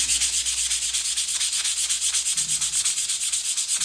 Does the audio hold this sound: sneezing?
no